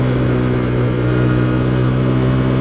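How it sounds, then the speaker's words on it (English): A Hyosung GT125R motorcycle engine pulls steadily up a hill, a loud, close, sustained mid-pitched drone with strong steady harmonics and no talk. "Let's see how my bike pulls on this hill."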